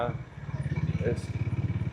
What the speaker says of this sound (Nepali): अब होन्डाको बाइक है कति स्मुथ छ